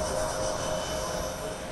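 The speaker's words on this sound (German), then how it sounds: "Im Minutentakt starten und landen die Flugzeuge." Airplanes taking off and landing at Mallorca airport make a steady, unbroken engine roar with a faint high whine, continuous and moderately loud throughout.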